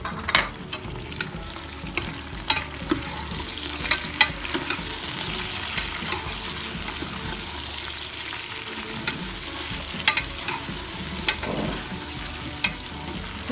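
Mutton and onions sizzle steadily in a pot, with frequent stirring taps and scrapes of a utensil against the metal.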